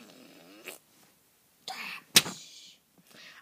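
A cartoon fart sound from an animated cat comedy: a short, sputtering burst standing mostly alone, with brief bits of other cartoon noises before and after and a sharp accent near the middle.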